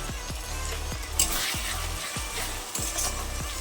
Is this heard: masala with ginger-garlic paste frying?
yes